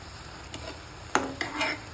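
Cashews stirred into bottle gourd halwa frying in a pan: a soft sizzle under a few scraping spoon strokes and light clinks, close and alone.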